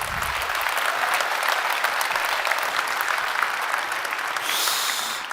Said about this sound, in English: round of applause for Chris Huet.